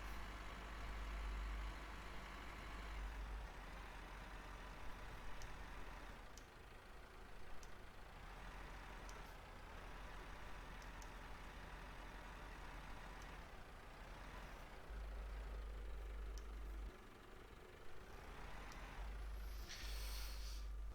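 A tractor in Farming Simulator 15 strains to pull a seeder, its engine holding a steady low drone for about twenty seconds with brief hissing bursts and slight rises and dips in the labouring tone, and no speech.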